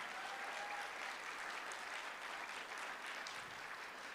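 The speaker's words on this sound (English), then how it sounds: "Round of applause for Phil Weiser here." A conference crowd claps steadily for several seconds, a sustained wash of applause heard from some distance without any talking.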